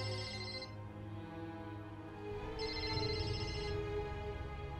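A ringtone plays in two bursts with a gap between them, a high electronic tone over a low steady hum, moderately loud and close.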